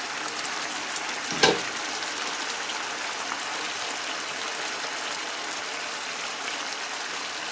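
Chicken korma cooking in a pot, a continuous hissing sizzle like steady rain, close and even, with one brief clatter near the start.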